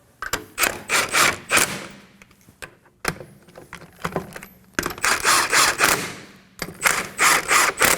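A hand ratchet snugs the rear wheel lug nuts on a Kia Sorento in quick clicking runs. The short bursts of close, sharp clicks repeat with brief pauses between nuts.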